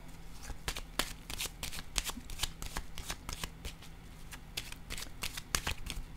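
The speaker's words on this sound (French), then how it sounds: "Je vais déposer une autre carte dans cette zone." Tarot cards shuffled by hand in a quiet room: a steady run of crisp riffling snaps and flicks, close and fairly soft, with no talking over them.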